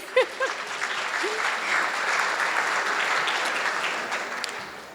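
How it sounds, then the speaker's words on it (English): Audience applause at a gala dinner, a steady, full wash of clapping from a crowd that holds for several seconds before tapering, with a brief voice at the start. "Give yourselves a round of applause."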